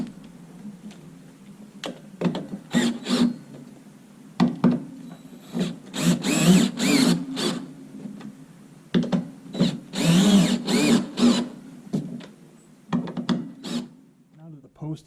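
Power drill driving screws into a solar street flood light post, in repeated bursts of whirring and grinding, close and loud, separated by short pauses.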